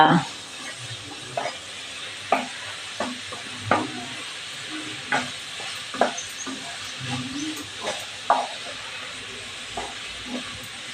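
Onion and tomato sautéing in a pan, a steady hiss broken by repeated scraping stirs at a regular pace, with faint talk in the background.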